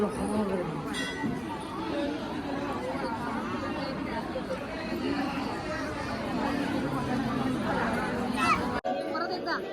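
A crowded Mahashivratri temple fair at Akkarpati hums with dense overlapping chatter and children's voices, with occasional metallic clinks and a bell-like ding amid the steady babble, nearby voices talking over it.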